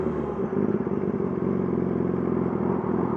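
A Yamaha R6 sport bike with a full M4 exhaust system is being ridden, its engine a steady, close, throaty drone with slight fluctuations in throttle and no talk.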